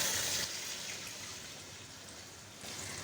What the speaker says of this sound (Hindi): आप ये मेरे पास 1 लीटर वाटर है, पानी सादा, ये मैं इसमें डाल देती हूँ